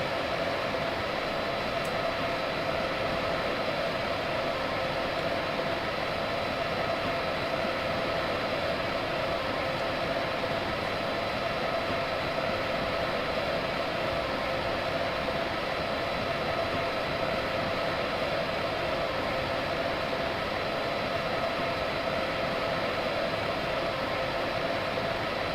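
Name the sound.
electric locomotive moving in Train Simulator 2016 video game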